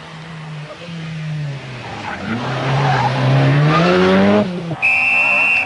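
A red Ford Sierra rally car with brake problems drives a stage of the 1987 Ulster Rally, its engine note climbing through the gears, loud and near, before it cuts off sharply and a high whine follows.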